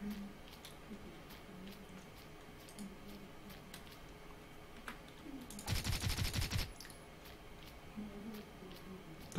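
Automatic gunfire in the blocky shooter Blockade 3D, a rapid burst of shots around the middle over softer clicks and game sounds, with a voice speaking intermittently.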